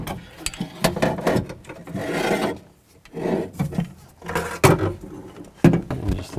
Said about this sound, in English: Now take the new regulator and just slide it in